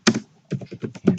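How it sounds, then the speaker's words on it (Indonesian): Keystrokes on a computer keyboard while entering a MySQL grant command, a quick run of close, crisp clacks in an irregular rhythm, alone and fairly loud. "Caranya dengan ketik perintah grant"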